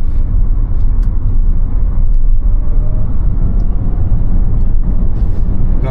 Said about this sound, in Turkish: Sport modunda bir kalkış denemesi yapacağız